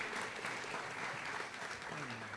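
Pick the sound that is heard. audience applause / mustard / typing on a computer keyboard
audience applause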